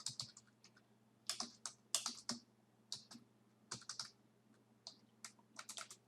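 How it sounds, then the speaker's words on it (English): Bursts of keystrokes on a computer keyboard while C++ code is typed, irregular clusters of clicks with short pauses, close and fairly quiet, no talking. "I'm going to go ahead and type those in"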